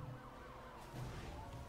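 A police car siren wails in the NFS Hot Pursuit racing game, with rising and falling tones over engine rumble that are faint and brief.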